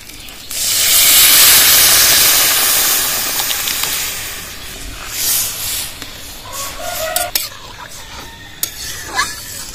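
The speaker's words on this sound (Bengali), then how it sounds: "এবার ডালটা ঢেলে দেবো।" Moong dal poured into hot oil with turmeric and fried spices, a loud sizzling hiss that bursts up and slowly fades, followed by stirring and scraping of a pot.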